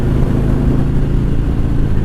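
A Harley-Davidson motorcycle engine idles and rumbles steadily up close as the throttle is rolled on gently with the front brake lightly applied, giving a continuous low, even drone with no sharp revs.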